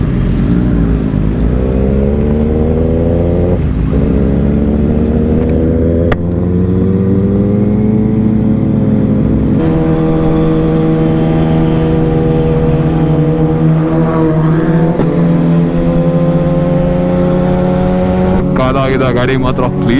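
A race motorcycle engine revs close by with a loud, steady drone whose pitch climbs and settles several times, and talk runs underneath it.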